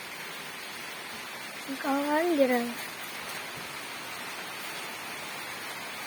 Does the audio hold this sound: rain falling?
yes